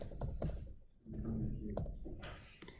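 Keystrokes on a computer keyboard entering a cubic polynomial function, several quick clicks in short bursts at close range, with a lecturer talking over parts of the typing.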